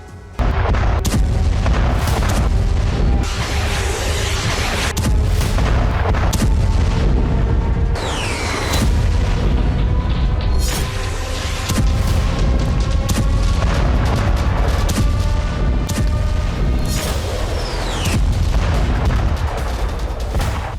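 Continuous artillery bombardment and explosive blasts in Gaza: dense, loud booms and rumbling detonations roll one after another without pause for about twenty seconds, with no voices over them.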